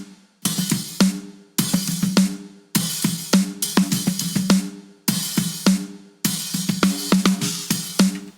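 An ungated snare drum recording with heavy microphone bleed: loud, regular snare hits ringing into a constant wash of other kit noise and sustained tones between strikes, no gaps of silence.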